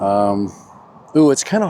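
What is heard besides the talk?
No distinct noise like a dog, phone or traffic.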